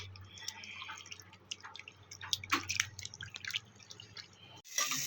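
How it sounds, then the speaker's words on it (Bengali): Chicken skin and fish are rinsed in a bowl of water, giving soft, irregular splashes and drips close by that build in the middle before ending with a sharper splash. "এগুলো বারবার করে জল দিয়ে ভালো করে পরিষ্কার করে নিচ্ছি।"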